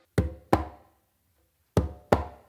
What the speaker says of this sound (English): what you're going to do is a bass and a slap with your non-dominant hand on the conga